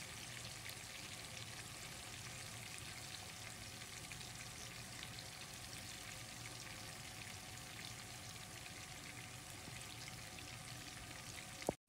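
Fish masala spice paste sizzling and frying in a pan as it is sautéed, a steady quiet crackle with faint stirring, no talking, ending with a brief clatter.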